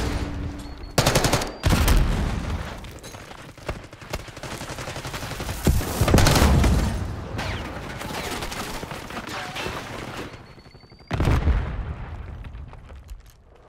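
Gunfire rattles in Call of Duty Black Ops 6: repeated bursts of automatic fire and sharp blasts come in uneven clusters, loud and close, with quieter ambient battle noise in between.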